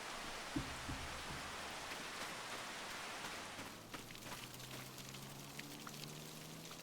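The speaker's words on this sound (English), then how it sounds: "How it rains here, or at least how the sound's here." Dense, steady rain hiss in Farming Simulator 25 that shifts character partway through, joined by a low droning hum, with no voices.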